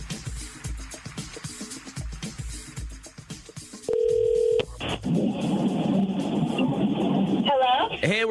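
Talk and tapping give way to a steady tone on a phone line, then a ringback pattern plays under background noise before a voice answers.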